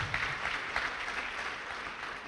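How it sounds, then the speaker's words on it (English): Brief, fairly faint round of applause from an audience at a pledge-taking ceremony, an even patter of clapping with no speech over it. "I would think he deserved a louder round of applause"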